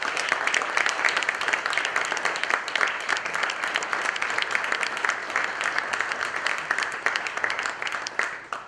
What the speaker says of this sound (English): So let's give a really round of applause